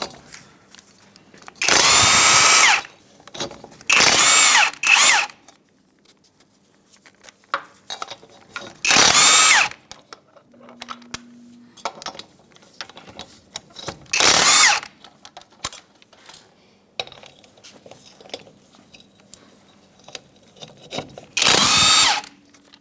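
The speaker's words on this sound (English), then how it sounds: "Our vehicle has locks on every lug stud, so we're just going to remove those with the lock key." A power tool with a lock key removes wheel lug nut locks on a 1992-1996 Ford F-150: five short, loud whirring bursts of a couple of seconds each, separated by quiet gaps with small clinks of handling.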